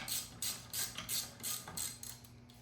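A long oil pan bolt is worked loose from an LS1 engine in an S13, giving a series of rhythmic mechanical clicks and scrapes, about six evenly spaced bursts, close and moderately quiet.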